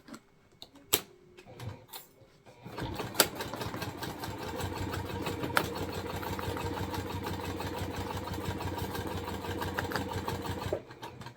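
Sewing machine stitching the gusset of a fabric bag: a few soft handling clicks, then a steady, close mechanical whirr of the needle running continuously for about eight seconds before stopping.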